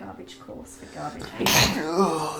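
A single sneeze bursts out loudly and close by in a car on a road trip, surrounded by conversation.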